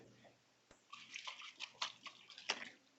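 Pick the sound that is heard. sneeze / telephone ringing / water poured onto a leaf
water poured onto a leaf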